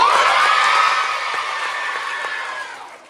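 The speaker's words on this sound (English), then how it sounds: "Give me a big cheer for Riley" Children cheer loudly at a school assembly with athletes, a short burst of shouting and whooping that fades toward the end.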